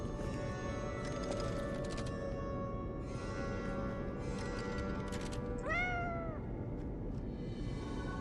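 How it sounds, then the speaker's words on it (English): A cat meows in the video game Lies of P, one clear rising-and-falling meow cutting through a steady, dense bed of in-game ambience and music; no one speaks. "The cat's up here!"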